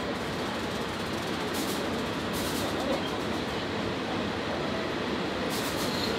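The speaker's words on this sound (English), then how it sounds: "Now we are in the train and we head into the downtown." Interior of a moving commuter train in Yangon, Myanmar: a steady, loud broadband rumble of the carriage running along the rails, continuous throughout with brief brighter rattles, no talk.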